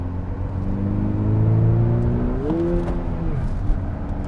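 A 2020 Honda Civic Si engine drones under hard acceleration, a close, steady hum that climbs in pitch partway through before settling.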